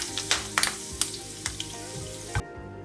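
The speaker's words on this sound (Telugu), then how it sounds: "ఇప్పుడు కరివేపాకు ఫ్రై చేసి అందులో మిక్స్ చేస్తున్నాను అండి." Curry leaves fry in hot oil for an avarekai snack mixture, giving a close, steady sizzle broken by sharp crackles and pops, with a stirring scrape near the end before the sound cuts off abruptly.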